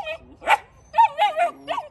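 A young fluffy male puppy by a truck gives several short, close yips and whimpering cries in separate bursts, with low background rumble between them.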